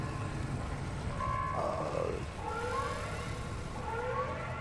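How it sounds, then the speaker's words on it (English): A storm warning siren wails in the driving game Pacific Drive, rising and falling tones repeating over a steady dense background rumble. "That is the alarm for the storm approaching."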